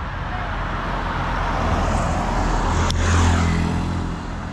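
A car approaches along a busy street in India, a steady broadband road rumble that swells toward the end as it draws near, with a brief sharp sound midway amid general traffic noise.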